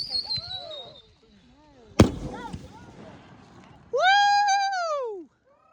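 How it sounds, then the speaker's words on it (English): A backyard firework goes off with one sharp, loud bang followed by crackling, with people talking and cheering around it and other whistling, squealing sounds nearby. "All right, second firework."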